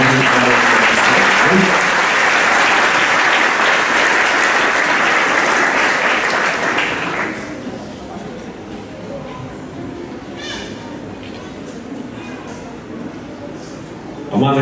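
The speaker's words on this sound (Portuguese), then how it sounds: "Uma salva de palmas para" A church congregation applauds a visiting pastor at an anniversary service, loud, dense clapping for about seven seconds that drops off sharply, followed by quieter room sounds and a voice speaking briefly.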